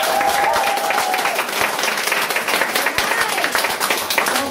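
An audience claps steadily through the whole stretch, a dense, loud wash of hand claps at a motivational wellness talk in Dubai, with faint voices and cheers mixed in.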